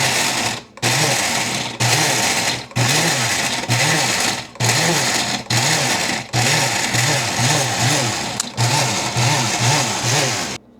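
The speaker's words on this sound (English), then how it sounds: "now you want to put your Oreos in the blender" A blender grinds Oreo cookies steadily in short bursts, its motor whirring loudly with brief pauses between pulses as the chunks rattle around inside.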